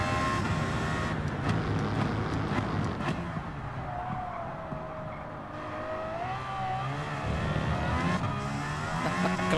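Aston Martin Valkyrie in Gran Turismo 7 racing at full throttle, its engine screaming steadily high and loud with rising and falling revs as it bounces off the rev limiter, continuous throughout with no talk.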